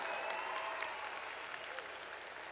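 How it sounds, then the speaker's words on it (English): A graduation crowd at a college commencement ceremony claps in a steady, sustained round of applause, broad and even across the hall, fairly distant and without talk. "please give a round of applause to everyone that helped you get here"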